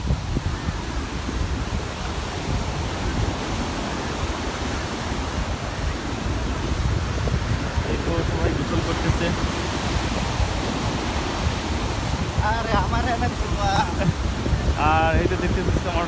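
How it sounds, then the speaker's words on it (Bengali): Sea waves at Laboni beach in Cox's Bazar roar continuously, a loud broad wash of surf with gusty wind on the microphone, and voices briefly rise over it near the end. "সাগরের সেই ভয়ঙ্কর শব্দটা আপনারা শুনতে পাচ্ছি"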